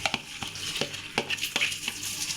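Boiled mutton keema sizzles in a pan, a steady hiss broken by repeated sharp scrapes and knocks of a spoon stirring against the metal.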